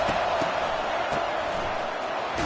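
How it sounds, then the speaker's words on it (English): A large college football stadium crowd roars steadily as the home fans try to help their defense, a dense, continuous wash of noise filling the whole clip without pause. "Listen to this crowd just shaking the girders of this place, trying to help their defense."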